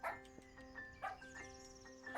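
A dog being petted in The Ranch of Rivershine farming game gives short soft yips and barks, several quiet bursts in an uneven rhythm over a faint steady musical background.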